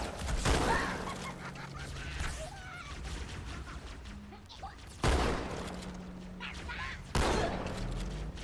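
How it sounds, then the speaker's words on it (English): Shotgun blasts in the Halo 2 Anniversary game, two sharp loud reports a couple of seconds apart, set against game ambience, effects and talk. "I want to hear the classic shotgun sound."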